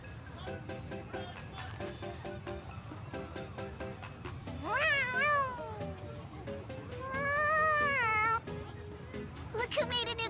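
Cat meows in the video game Tales of Xillia 2: several drawn-out, wavering meows and a short caterwaul, close and clear over a soft background of game sound and light talk.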